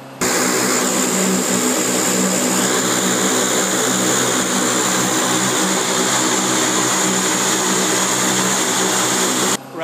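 Super Guppy cargo aircraft, built on a Boeing 377 wing structure with P-3 engines and C-130 propellers, gives a loud, steady propeller and turbine drone that holds without a break, close by.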